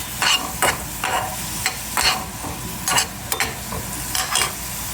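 Carrots, peppers and other vegetables frying lightly in a pan are stirred with repeated scraping strokes, each stir a sharp burst over a constant close sizzle.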